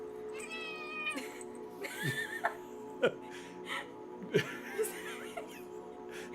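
A grumpy cat meows several times, near and moderately loud, mixed with a person talking softly nearby.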